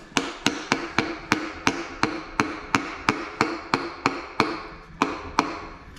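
A hammer taps parts of a VW AAB 2.4D engine during a rebuild, a steady, rapid metallic rhythm, close and sharp, nearly three evenly spaced strikes per second with no pause.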